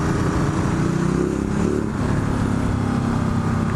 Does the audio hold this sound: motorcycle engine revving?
yes